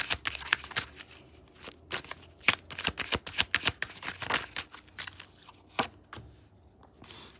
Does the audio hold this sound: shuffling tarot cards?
yes